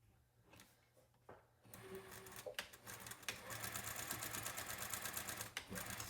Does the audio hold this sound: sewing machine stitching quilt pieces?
yes